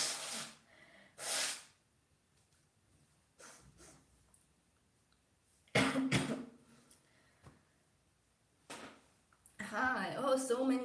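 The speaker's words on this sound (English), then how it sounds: "Gotta blow my nose" A person at home, sick, blows their nose in several sharp, close hissing bursts separated by quiet gaps, with brief speech and throat noises in between.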